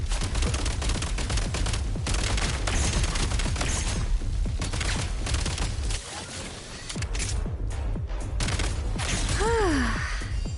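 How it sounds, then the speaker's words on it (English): Rapid video game gunfire in Genshin Impact, with shots punching through walls: dense, loud bursts of overlapping shots that briefly thin out midway, then return with a rising whine at the end. "They're shooting through walls."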